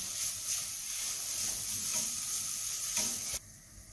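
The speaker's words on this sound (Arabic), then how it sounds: "حنضيف عليه ملعقة الزنجبيل المبشور، وأيضا ملعقة الثوم المهروس، ونقلبهم مع بعض" Onion sizzling in a pan with grated ginger and crushed garlic as it is stirred, a steady close frying hiss with occasional scraping strokes, cutting off near the end.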